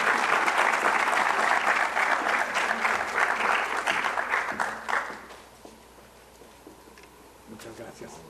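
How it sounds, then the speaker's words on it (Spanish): A seminar audience gives loud applause in honor of an engineer, steady dense clapping for about five seconds that then tapers off to scattered claps. "Fuertes aplausos."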